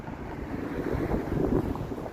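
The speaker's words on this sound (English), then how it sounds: "It's windy now again" Wind gusts against the microphone outdoors in Toronto in a low, rumbling roar that swells slightly midway, steady and close, with no voices.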